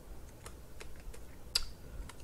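Keys on a computer keyboard are pressed one at a time in a quiet room, a handful of crisp, separate clicks at an uneven pace, with one slightly louder tap near the end.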